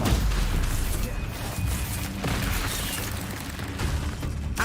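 A Stupefy spell cast in a video game bursts out as loud, dense booms and crackling blasts that layer into a continuous rumble of combat effects.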